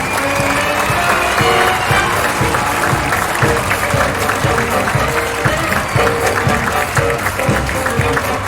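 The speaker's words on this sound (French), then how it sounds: "Et on les applaudit bien fort." A gala audience gives loud, sustained applause, dense clapping from a large crowd filling the room steadily throughout with no voices on top.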